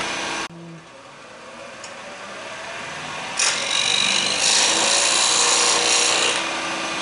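A wood lathe tool rasps and scrapes through a parting cut on a heart-shaped, inside-out turned wine glass, a steady close hiss that grows louder and harsher midway and continues without talk.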